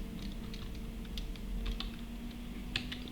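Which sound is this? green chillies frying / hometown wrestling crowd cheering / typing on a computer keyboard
typing on a computer keyboard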